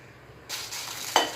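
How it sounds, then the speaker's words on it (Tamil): Dried red chillies dry-roasting in a pan for idli podi give a soft, steady sizzle and faint stirring scrape, starting after a quiet moment, with a brief clink near the end. "காஞ்ச மிளகாயும் நம்ம நல்லா வறுத்து எடுத்துக்கலாம்."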